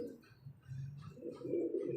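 Soft, low cooing from a pigeon nearby, a few muffled rolling coos rising in the last half, faint and quiet with no voices.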